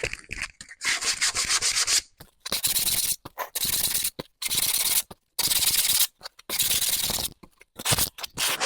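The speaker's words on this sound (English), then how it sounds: "So I'll sand these." Wooden bowls being power-sanded in loud, rasping bursts of about a second each, separated by short silent gaps, with no talking.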